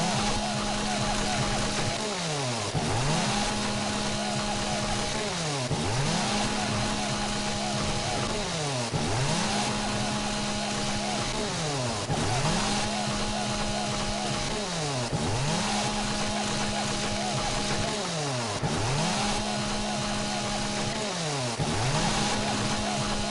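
A chainsaw in the survival game 7 Days to Die runs continuously at close range, its engine revving up and dropping back in a steady repeating cycle of loud whining bursts.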